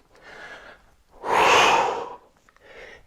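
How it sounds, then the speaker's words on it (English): During a dumbbell and bodyweight home workout, a person breathes out hard while pushing the hips up, one loud, forceful exhale between softer breaths before and after. "you can breathe out as you push the hips up"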